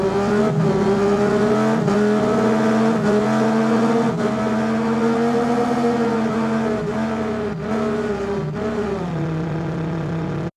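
A sound-designed car engine revs up and down within a narrow mid-range band, a loud, continuous harmonic drone with slight pitch swells and dips throughout, no talking.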